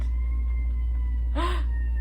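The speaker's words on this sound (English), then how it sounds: "wow, sirens" Emergency vehicle siren outside, one short rising-and-falling wail that sounds in the middle of a quiet moment and then stops.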